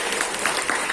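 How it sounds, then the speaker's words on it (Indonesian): An audience applauds at a hospital gathering, a steady wash of dense clapping filling the brief moment without any voice on top. "Aplaus dulu untuk Sarjito."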